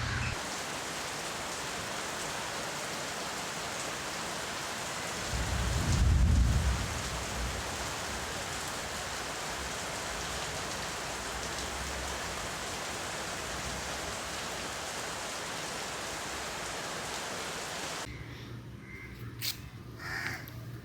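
Heavy monsoon rain in Kerala pouring steadily, with a deep rumble of thunder rising briefly partway through and crows cawing nearby; the downpour stays dense and even throughout, then cuts out near the end.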